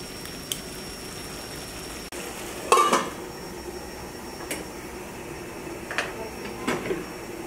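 A metal lid clatters onto a pot of prawns cooking on low heat, one sharp clank followed by a few lighter knocks and scrapes, close and fairly quiet over a soft background hiss.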